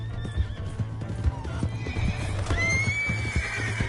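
A horse gallops and neighs in Red Dead Redemption 2, with rapid hoofbeats drumming close by under a rising whinny, and game voices and music mixed in around it.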